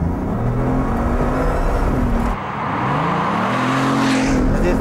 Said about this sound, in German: Schauen wir mal, jetzt machen wir ein bisschen Gas.